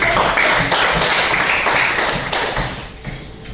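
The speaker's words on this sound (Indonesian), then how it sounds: "Tepuk tangan." Hand clapping from a classroom or teaching audience, dense and steady at first, then thinning and fading toward the end, with no talk over it.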